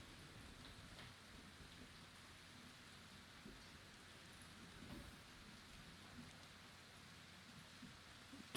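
Faint, steady rain falls outside in an even hiss with a soft patter, distant and low, with no voices present throughout.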